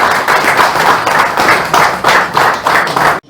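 An audience at a fishing community committee meeting in a function hall in Nellore claps loudly in approval of the newly named president, a close, dense burst of applause that stops abruptly.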